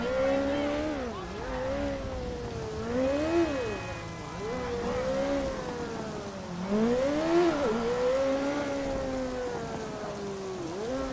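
A motorbike in GTA 5 revving and gliding through gear changes, its engine pitch repeatedly climbing and dropping in steady waves, close and prominent throughout.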